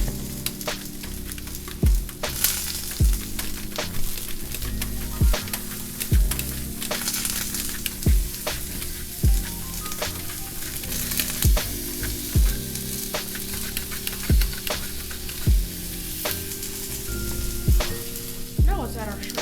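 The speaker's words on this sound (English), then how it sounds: "Let's add some onions." Onions sizzle loudly on a hibachi grill next to mushrooms, a dense continuous hiss broken by regular metallic spatula taps and scrapes roughly every second.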